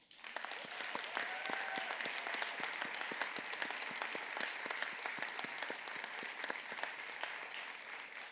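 Sustained audience applause at a college graduation ceremony, many hands clapping steadily and evenly for several seconds, moderately distant and without speech.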